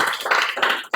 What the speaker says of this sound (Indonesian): tepuk tangan dulu untuk Yose